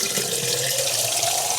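Tap water pours steadily into a pot, a close, constant rushing splash.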